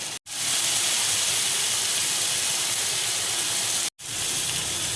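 Paneer frying in a pan for kathi rolls gives a steady, loud hiss of sizzling oil that runs continuously, broken by two very short gaps, with no talking.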